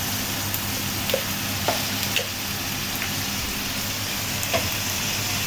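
Tomatoes frying in a pan with garlic for tomato chutney, a steady close sizzle and hiss running throughout with a few light clicks of stirring, no voices.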